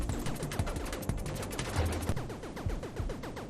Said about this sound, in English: I chose volley, which allowed me to shoot more bullets